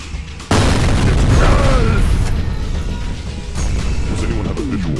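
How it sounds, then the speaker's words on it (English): A grenade explodes in F.E.A.R. Perseus Mandate with a sudden loud close boom, followed by a long rumbling roar with debris and combat noise that swells again near the end. "Grenade."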